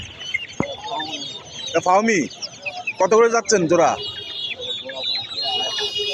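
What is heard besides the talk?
chickens clucking at a pigeon and poultry market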